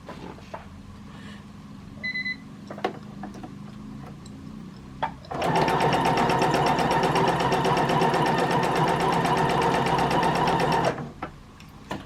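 A sewing machine stitches a free-motion quilted circle on a pin-basted quilt sandwich, running steadily and close for about five seconds after a few faint clicks, then stopping abruptly.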